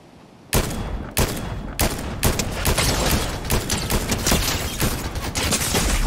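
Rapid bursts of gunfire in the video game Fortnite, loud and near, with repeated sharp shots and automatic fire dense throughout after a quiet opening half-second.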